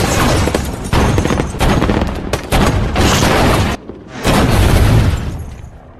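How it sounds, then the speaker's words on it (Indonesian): Dense bursts of film gunfire rip out in loud, rapid volleys broken by brief pauses, with one short gap before a final heavy barrage that trails off. "Anggota FBI akhirnya dihujani dengan tembakan beruntun hingga tewas."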